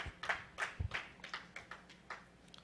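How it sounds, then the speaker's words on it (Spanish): A church congregation claps in a loose, sparse rhythm, around eight or nine distinct hand claps spaced irregularly, fairly close and moderately quiet with a small echoing room feel and no talking. "Le damos un aplauso al Señor por eso."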